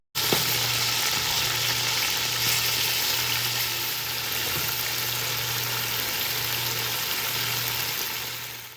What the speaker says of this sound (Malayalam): ഇപ്പോൾ ഇതാ ചിക്കന് ഒരു ഭാഗം ഫ്രൈ ആയിട്ടുണ്ട്.